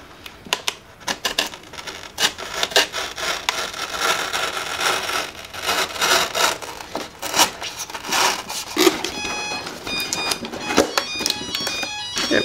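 Knife trimming the edge of a foam board wing on a model A-10 Warthog airplane, a continuous close scratchy rasp with tapping strokes throughout, a few faint tones near the end.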